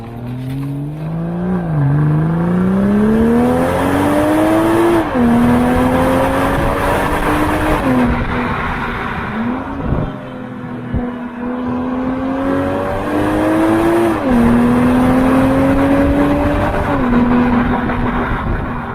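A BMW M440i engine revs loudly and continuously, pitch climbing and dropping through repeated gear changes, with a brief lull midway before building again.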